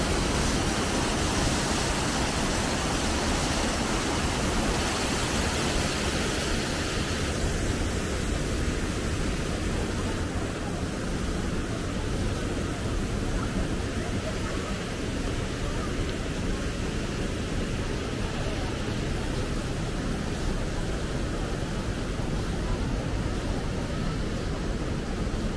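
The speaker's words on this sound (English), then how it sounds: "there is a fountain. Looks like a waterfall." A fountain in Gwanghwamun Square, Seoul, pours down like a waterfall, giving a steady, dense rush of splashing water that stays loud and constant throughout, with faint voices in the background.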